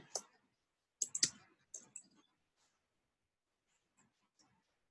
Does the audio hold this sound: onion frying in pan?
no